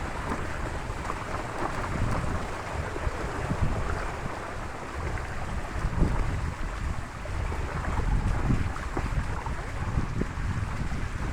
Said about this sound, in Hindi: हम पानी में से जा रहे हैं